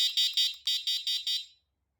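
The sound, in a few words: Leoout T88 e-scooter turn signal beeper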